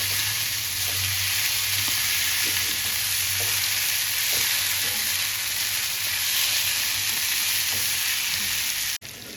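Prawns fry on a tawa while being turned now and then until golden. A loud, close, steady sizzling hiss continues unbroken, with light scrapes of the spatula and no talking.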